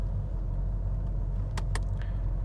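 A 1985 Oldsmobile Cutlass 442 with a rebuilt engine runs at a steady, rumbling idle up close, with a couple of sharp clicks or clunks partway through.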